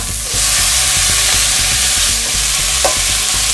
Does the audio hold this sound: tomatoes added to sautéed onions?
yes